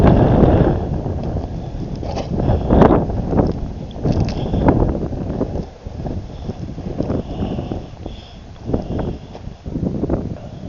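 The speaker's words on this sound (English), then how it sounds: "It is quite windy out here," Strong wind buffets the microphone outdoors at a ghost town, a loud rumbling roar that gusts and dips unevenly throughout, with no voices.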